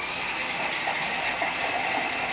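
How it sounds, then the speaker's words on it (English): Cold tap water gushing steadily into and rinsing out a can, a continuous broadband splashing rush at close range with no talk. "I'm going to rinse both cans out with some just cold regular tap water"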